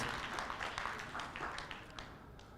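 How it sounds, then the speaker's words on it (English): Audience applause for a group of seven or eight members, a steady wash of many hands clapping at moderate distance, fairly even throughout with a few sharper claps standing out. "let's give a round of applause to this 7 of brothers and sisters"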